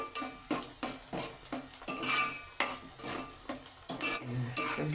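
Cut green chillies fry in a pan while a utensil stirs and scrapes them, giving repeated sharp scraping strokes in an irregular rhythm over a light sizzle, close and clear with no voices.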